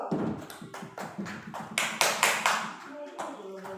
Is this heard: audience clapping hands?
yes